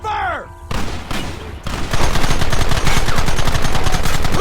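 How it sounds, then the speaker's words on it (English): Gunfire in the video game Red Dead Redemption: a sustained, loud barrage of overlapping rapid shots like a fusillade, starting after a brief whooshing intro and continuing densely to the end. "There they are! Open fire!"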